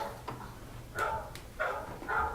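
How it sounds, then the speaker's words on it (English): A dog barks faintly in the background during a county commissioners meeting, a few scattered short barks and yips at a distance, with room noise around them. "Oh, is that your dog?"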